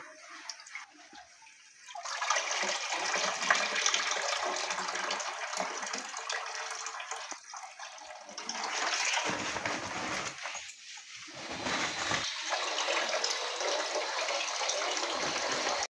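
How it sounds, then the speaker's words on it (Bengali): Water drains steadily from a sack of soaked rice paddy, a continuous hissing trickle that starts after a quiet moment and swells and dips in strength, with brief lulls. "জলটা ঝরে যাবে"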